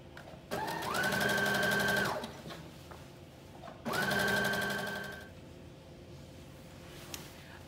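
Sewing machine running a loose, long basting stitch on a flutter top, two close runs of steady whirring about one and a half seconds each, separated by a short pause, no talk.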